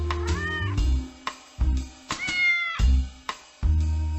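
A small kitten meows repeatedly, close and clear, with a string of rising and falling cries separated by short pauses.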